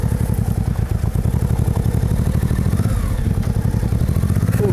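A Honda VT700 motorcycle rides along with a steady, close, pulsing V-twin engine rumble and light mechanical clatter throughout, no voices present.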